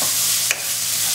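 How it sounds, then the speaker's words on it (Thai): Garlic stir-fries in a hot pan for a seasoned tofu dish, giving a steady, close hiss of sizzling with one brief scrape of stirring partway through. "ผัดกับกระเทียมนะครับ"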